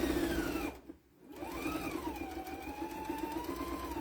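A sewing machine runs close by, stitching cross hatching on a potholder. It hums steadily with a brief pause near the start, then resumes with a whirring pitch that rises and falls.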